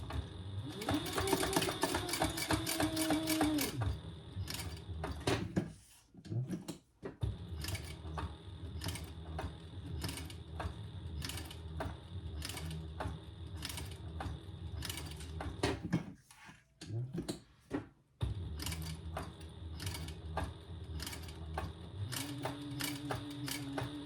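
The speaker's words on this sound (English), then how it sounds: "Now we're just going to top stitch that closed on all 3 sides." A sewing machine top-stitches purple Theratex fabric closed along three sides in steady, close bursts of rapid needle clatter, pausing briefly twice before resuming.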